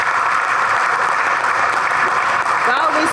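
An awards ceremony crowd claps continuously, a thick, even wash of applause that holds at a steady loudness for a few seconds, with faint voices mixed in.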